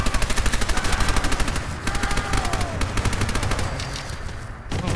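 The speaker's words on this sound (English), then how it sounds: "we'll go with the machine gun, and we've got 100 rounds" Machine gun fire in Fallout 4, loud close bursts of rapid automatic shots in a steady rattling rhythm, pausing briefly mid-way before resuming through to the end.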